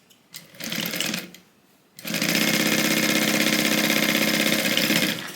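Sewing machine stitching a tote bag with a heavy seam, running in a short burst, pausing briefly, then humming steadily and loud at close range for several seconds with no talk.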